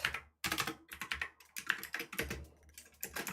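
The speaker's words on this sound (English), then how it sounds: "you could just hear what I'm typing in" Rapid typing on a computer keyboard: clusters of sharp, close key clicks in uneven bursts with short pauses between, loud and alone with no talking.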